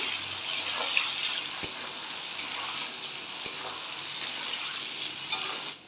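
Soaked cashews and raisins being stirred in hot fat in a pan for an echor muri ghonto, giving a steady close sizzle with occasional sharp clacks of the spoon against the pan and no talking.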